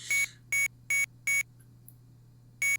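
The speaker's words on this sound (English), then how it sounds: "a horrible high-pitched beeping noise whenever we move" High-pitched electronic beeps from a 1983 BBC Micro game sound each time the player moves: five short, evenly spaced tones with a quiet gap before the last, over a steady low hum.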